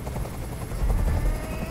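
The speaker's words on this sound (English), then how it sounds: "I can't stand that noise anymore! Tell that helicopter to get out of here!" A helicopter in the video game Detroit: Become Human throbs loudly and continuously with a low, pulsing rotor drone.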